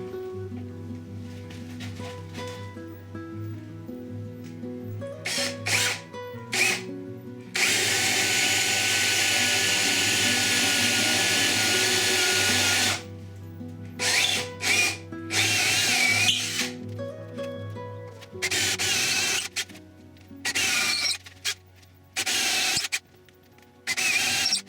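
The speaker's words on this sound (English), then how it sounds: "These are then punched in and drilled." A power drill boring holes into the wooden crest of a handmade stick chair, with repeated short bursts and longer sustained runs of whirring, loud and close, separated by brief pauses.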